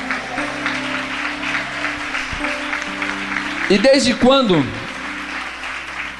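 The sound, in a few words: church congregation applause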